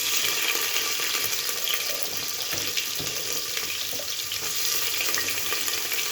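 Onion sizzles in hot oil in a pan with cinnamon, cloves, a bay leaf and curry leaves, a steady dense crackle that stays close and even, with no talking.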